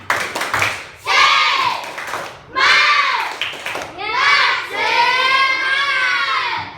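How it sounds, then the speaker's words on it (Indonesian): A class of schoolchildren performs rhythmic 'tepuk semangat' spirit clapping, with bursts of loud patterned claps mixed with chanting children's voices in several phrases, close and energetic. "sebelum belajar coba Ibu mau dengar dulu tepuk semangatnya"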